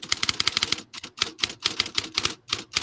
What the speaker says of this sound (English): I'm typing the story up as we speak